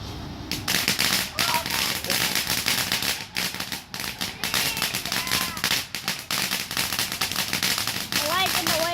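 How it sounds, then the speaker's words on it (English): Small handheld fireworks crackle and pop in rapid, irregular bursts, with children and adults talking and exclaiming over the steady sputtering. "It's like a minute firework"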